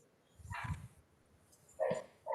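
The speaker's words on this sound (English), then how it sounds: "I don't know if you can hear the dogs here, they are barking." Dogs bark a few times in short, separate bursts, sounding fairly faint and distant against a quiet background.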